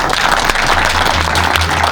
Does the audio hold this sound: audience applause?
yes